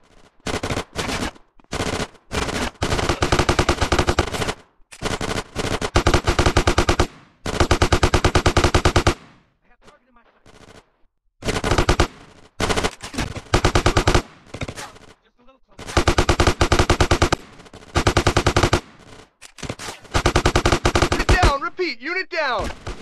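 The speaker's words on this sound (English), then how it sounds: "Get some suppressing fire in there!" Heavy automatic gunfire fills a GTA San Andreas gang shootout, with long rattling bursts of machine-gun fire broken by brief pauses, loud and close, while shouted voices come through between volleys.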